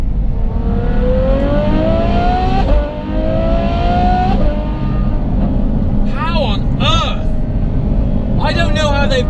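A Ferrari F12 fitted with a Novitec exhaust revs hard in long rising sweeps, with a sharp run of quick blips near the end, loud and close throughout.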